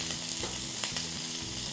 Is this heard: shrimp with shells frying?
yes